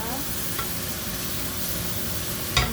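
Tomatoes being stirred in a sizzling frying pan, a steady hiss of frying with soft scraping of the spoon throughout and a brief louder clatter near the end, close up and without talk.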